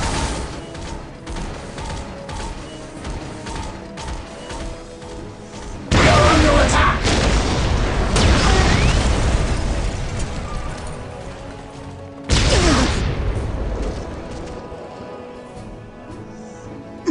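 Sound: gunfire and explosions in video game Dawn of War Dark Crusade

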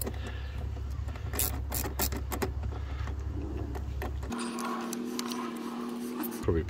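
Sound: 10mm socket wrench undoing nuts on Audi A4 air filter cover

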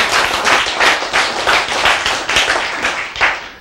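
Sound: audience clapping

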